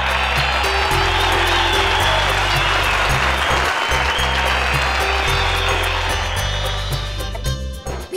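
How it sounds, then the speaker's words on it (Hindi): Audience applause on a Hindi television drama set, steady clapping from a crowd heard beneath loud background music with a pulsing bass line, fading slightly near the end. "तालियां"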